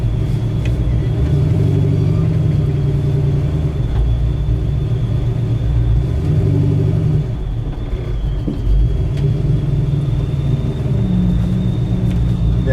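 1969 Ford Mustang Mach 1 engine idling, a steady low rumbling burble close by with slight surges in the lope, running alone under faint background noise.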